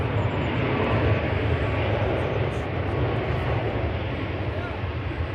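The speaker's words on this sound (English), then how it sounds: "Ryanair from Krakow here. Flight 2142 just rolling out." A Ryanair jet from Krakow rolls out after landing at Manchester Airport, a continuous low engine roar that fades slightly toward the end, with talk faintly mixed in.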